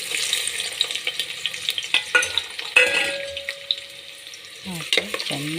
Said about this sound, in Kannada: ಹಾಕಿ ಚೆನ್ನಾಗಿ ಫ್ರೈ ಮಾಡೋಣ.